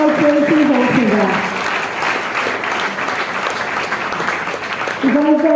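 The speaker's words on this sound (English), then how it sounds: "Round of applause, ladies and gentlemen, once again for this amazing team" Audience applause fills a hall at a solidarity evening for a play's cast, a loud steady wash of clapping lasting several seconds, with voices and cheers mixed in at the start and end.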